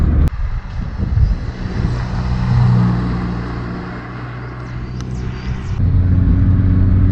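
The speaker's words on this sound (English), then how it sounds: "I'm in fourth gear, put the foot down, it's climbing up this hill, up to the fifth, 60 miles an hour" An Audi A2 climbs a hill under hard throttle in fourth gear before shifting to fifth, giving a steady, droning engine rumble with road noise inside the cabin and a shift in tone near the end.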